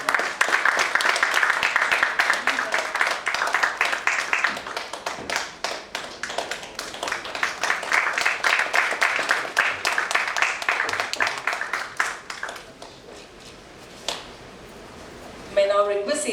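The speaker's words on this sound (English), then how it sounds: "May we give him a big round of applause." Audience at a one-day digital technology seminar claps for a speaker receiving a memento, dense sustained applause for about twelve seconds that thins into scattered claps, with a brief voice near the end.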